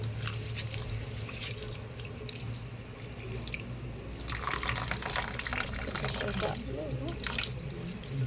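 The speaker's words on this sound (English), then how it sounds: "I'm going to wash my rice now and put it in the pot." Rice is washed in a pot with a kitchen tap running, preparing rice and peas for a Jamaican Sunday dinner; steady close water flow with splashing and sloshing throughout, growing busier in the second half.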